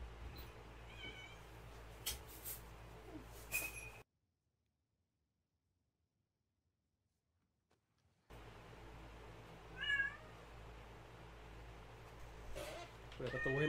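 In The Last of Us Part II, a cat meows at a door: two short meows separated by a few seconds of near silence, set against soft game ambience.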